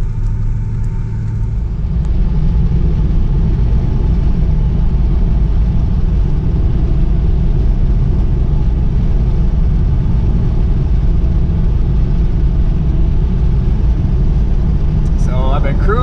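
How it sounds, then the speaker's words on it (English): A Chevy car cruises on a highway, a steady, loud low engine and road rumble that holds constant throughout, heard from inside with no talking. "So I've been cruising behind this car for a while, passing cars along the way."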